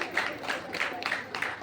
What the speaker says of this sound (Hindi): तालियों के साथ इसका स्वागत कीजिए